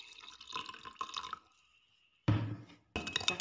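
Warm water pours into a bowl of yeast and sugar with a bright trickling splash, briefly stopping and then starting again, close and moderately loud with no voices.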